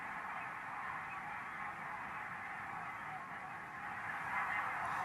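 Large wintering flock of barnacle geese honking continuously in Britain, a dense, steady chorus of many calls blending together at moderate distance, swelling slightly louder near the end.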